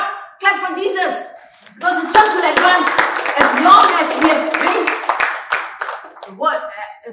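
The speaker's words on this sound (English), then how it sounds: "Clap for Jesus." A church congregation claps hands together in a dense, sustained burst of applause, with a preacher's voice speaking before and after the clapping.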